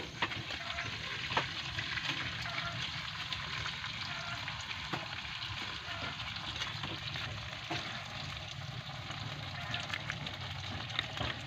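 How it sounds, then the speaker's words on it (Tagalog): Tomato sauce stirred into adobo frying in a pan, a steady crackling sizzle with faint scraping of stirring throughout, close and continuous. "Ihahalo na natin ang tomato sauce."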